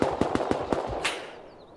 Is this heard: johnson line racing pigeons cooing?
no